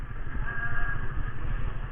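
A motorcycle's exhaust is being tested while it is ridden through Subang town, giving a steady, continuous engine drone up close with no talk over it.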